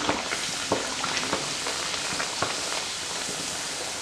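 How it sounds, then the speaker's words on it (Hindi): Puris fry in hot oil in a kadhai, a steady bubbling sizzle with small pops and crackles scattered throughout, fairly close and alone without talk. "फ्राई करने के लिए हमने यहाँ कढ़ाई में तेल गरम कर लिया है। अब धीरे से हम अपनी एक एक पूरी को छोड़ेंगे"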